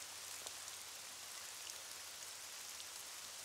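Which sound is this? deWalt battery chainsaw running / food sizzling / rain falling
rain falling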